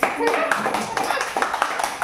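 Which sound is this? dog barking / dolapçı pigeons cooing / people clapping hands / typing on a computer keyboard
people clapping hands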